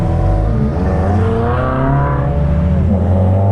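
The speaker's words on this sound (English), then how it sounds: "This Subaru sounds really good, man. All he has is a muffler delete, and it sounds awesome." Subaru WRX with a muffler delete, driving: a loud, raspy exhaust drone that climbs and dips in pitch as the engine revs under way, heard close, with no talking.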